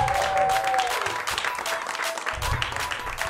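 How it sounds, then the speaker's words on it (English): A comedy show audience gives a burst of applause for a comedian, a full, dense wash of clapping from many hands that swells and then thins out slightly toward the end. "A big round of applause for Tyler Fowler."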